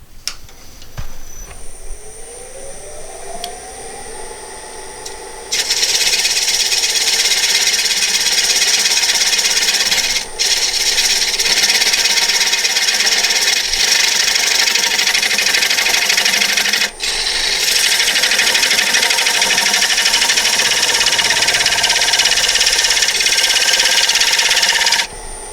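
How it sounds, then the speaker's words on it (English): A wood lathe spins a funnel-shaped pedestal bowl while a skew chisel, held flat as a scraper, squares up the surface. A steady, loud hiss of cutting holds for most of the span over the motor's hum, with two brief breaks. "going to actually come in with my skew very carefully as just as a scraper to try and square that up completely"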